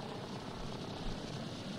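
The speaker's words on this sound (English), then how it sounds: "Where's my helicopter? Oh, it's still going." A helicopter in Far Cry 6 drones continuously with a dense, steady rotor and engine roar, loud and unbroken throughout.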